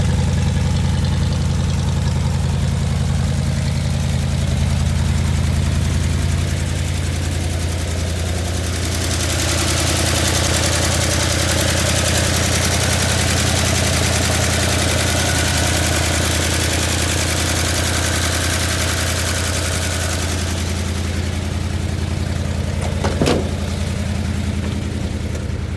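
A 1977 Chevrolet C10 square body short bed truck idling on choke after sitting for a long while. Its engine runs at a steady, loud, rough idle throughout, with a brief knock near the end.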